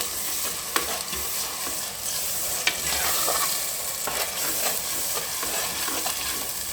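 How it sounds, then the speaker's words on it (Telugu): Masala fries in oil for a potato and brinjal curry, a steady crackling sizzle with occasional spoon scrapes and taps against the pan as it is stirred, close and continuous without any voices. "బాగా మనకు మసాలా ఫ్రై కావాలి ఆయిల్లో."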